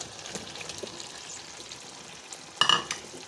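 Large chunks of onion go into a hot pan for chicken jalfrezi, where a steady sizzling hiss swells into a sudden louder crackle as they land, then settles back. No one speaks.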